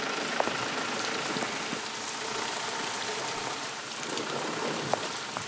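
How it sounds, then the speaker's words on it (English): Steady rain falls on open dry ground, a dense, even hiss of drops with a few sharper close patters, continuing unbroken and alone. "It finally starts to rain."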